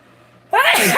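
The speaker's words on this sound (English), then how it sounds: "sorry, I'm gonna sneeze." A single loud sneeze bursts out close by after a moment of near quiet.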